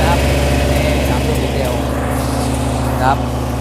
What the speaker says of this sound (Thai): เครื่องยนต์สามลูกดีเซล